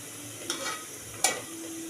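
Golden-brown onions frying in a pan give off a steady low sizzle, and two short scrapes of stirring rise above it at close range.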